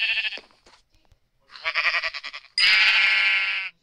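Sheep in a video game bleating in several loud, close, wavering calls, a short pair first, then a longer rising bleat and a final sustained one, with brief quiet gaps between.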